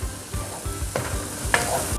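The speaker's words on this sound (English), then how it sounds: "ginger paste. There we are. And mix that up." Ginger paste with garlic and chili is stirred in hot oil in a pan, giving a steady close sizzle broken by repeated rhythmic scrapes and a couple of sharper spoon knocks.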